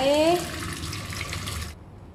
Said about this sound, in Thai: เราเทน้ำทิ้งค่ะ